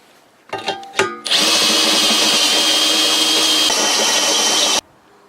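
A power drill with a step bit bores through metal while building a homemade three-point hitch plow adapter: a couple of short starts, then a loud, steady, high whine that runs alone for about three and a half seconds before stopping.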